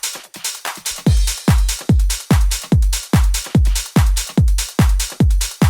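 Modern trance drum groove with a deep, booming four-on-the-floor kick joining the claps and hats a second in, driving steady and loud with no voices.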